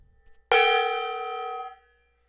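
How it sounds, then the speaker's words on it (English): A single stroke on a gong rings out loud and clear, then sustains with a bright shimmering tone that slowly fades before cutting off, heard alone in a workshop setting. "get that gong, the end of stream gong"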